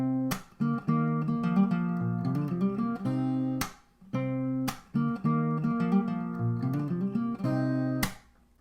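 Guitar plays an intro phrase, sustained plucked notes and a few sharp strums, repeated twice at an easy tempo, close and clear, no talking.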